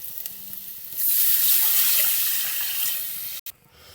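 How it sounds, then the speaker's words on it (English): Water streams steadily into a cooking pot for Jamaican curry rice, a bright, rushing pour lasting about two and a half seconds that tapers and stops, followed by a brief clunk. "Now I'm gonna add some water."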